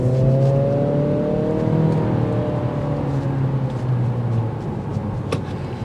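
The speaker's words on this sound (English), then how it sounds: "The exhaust note filters in" A 2024 Acura Integra A-Spec in sport mode accelerates with a steady, rising exhaust drone heard from inside the car, tones climbing smoothly over several seconds with no talk.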